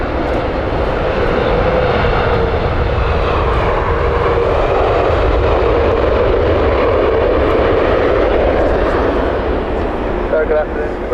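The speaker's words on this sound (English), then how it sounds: "Beautiful 787 Dreamliner from Poland." A Boeing 787 Dreamliner jet roars steadily near the runway at Heathrow Airport, loud and close, its broad engine noise holding constant for the whole stretch without letting up.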